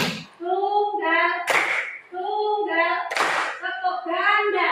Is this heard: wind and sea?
no